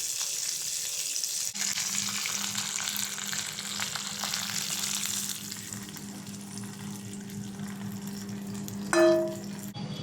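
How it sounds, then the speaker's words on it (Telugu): Cumin seeds and curry leaves crackle and sizzle in hot oil as a tempering for peanut chutney, giving a steady close hiss with faint spatters and a brief clink near the end. "1 స్పూన్ జీలకర్ర అండ్ కరివేపాకు చిటపట్లాడినాక బంద్ చేసుకుందాం."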